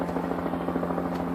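A helicopter drones close by with a steady, throbbing rotor beat and low engine hum, loud and continuous throughout.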